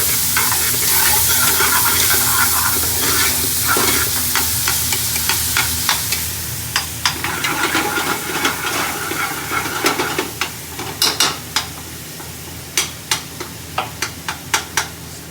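Raw onions sizzle steadily in a hot pan for an Indian chicken korma, a dense continuous frying hiss, with sharp scraping clicks of a stirring spoon growing more frequent toward the end.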